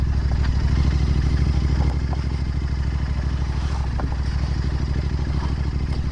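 A Royal Enfield Continental GT 650 rumbles steadily along a rough, broken road, its engine a continuous close drone with occasional clatters and knocks from the bumps, no voices.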